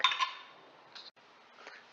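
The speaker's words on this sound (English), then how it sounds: "And now we're just going to wedge them" A knife cuts microwaved potatoes into wedges on a board, giving a few light clicks and taps with quiet scraping between them, soft and close with no talking.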